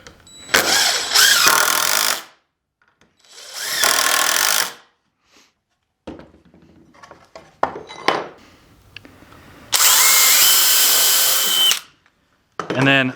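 Power drill driving screws into pallet wood feet for a Christmas tree, several loud whirring bursts of a second or two separated by silence, with small handling knocks and clatter between them.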